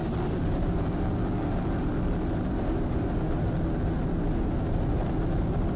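An offshore racing powerboat with two Mercury inboard engines runs at a grand prix off Point Pleasant, New Jersey, making a constant loud, dense engine roar with no pauses or talk.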